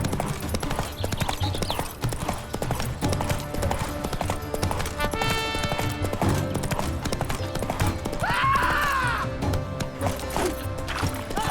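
Horse hooves clip-clop steadily in The Witcher 3: Blood and Wine, a continuous even gait with a brief whinny-like burst partway through, set against game ambience and music.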